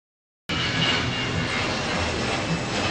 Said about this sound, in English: You will hear the sound of a propeller in the video of Air India flight.